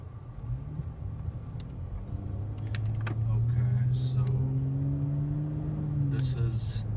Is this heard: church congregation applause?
no